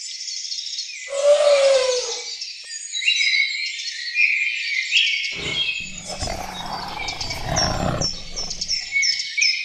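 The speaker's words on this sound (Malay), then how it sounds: "Ada burung dalam tangki akuarium ikan." Birds chirping in a fish aquarium tank, a dense, continuous layer of bright tweets and calls filling the whole stretch, with a louder burst of lower calls near the start and a rumbling, noisier passage partway through.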